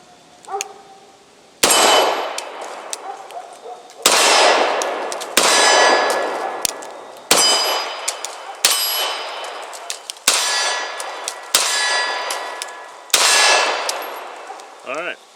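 Beretta M9 pistol fired at steel targets, about seven widely spaced sharp shots each followed by a ringing metallic clang with long decaying reverberation, loud and close.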